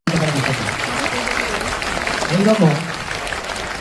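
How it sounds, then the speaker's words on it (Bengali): An audience at a motivational event claps continuously in the background while someone speaks loudly over the applause. "কথাগুলো শোনার পর হাততালি থামা উচিত না, ওনার জন্য জোরে জোরে হাততালি খাওয়া উচিত"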